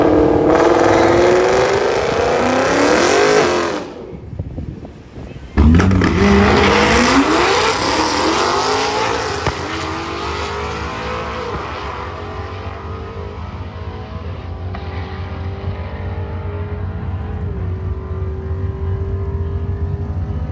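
A full bolt-on 2024 Mustang GT V8 launches down a drag strip, its loud engine revving through rising gear sweeps, a brief dip at a shift, then a long sustained high-rpm roar fading slightly as it pulls away.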